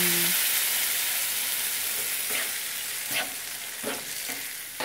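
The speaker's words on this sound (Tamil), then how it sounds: "இப்போ பாருங்கள் கடுகு வெடிக்குது பாருங்கள்" Mustard seeds crackle and splutter in hot oil with curry leaves in a pan for a mint-coriander chutney, giving a steady loud sizzle with scattered sharp pops close by and no talking.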